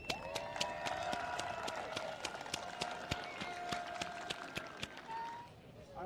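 Audience at a collegiate rugby hall of fame ceremony applauding an inductee, sustained clapping and cheering throughout with a prominent sharp transient and ringing tones, fading slightly at the end.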